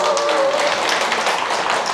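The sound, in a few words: audience applause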